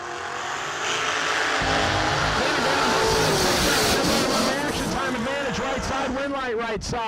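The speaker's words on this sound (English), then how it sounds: "the loudest and quickest dragster on the property" Blower dragster from Louisiana making a drag racing run, a loud, sustained engine roar that rises and then sweeps away with a Doppler-like fall, heard near and continuous with crowd or announcer sound beneath.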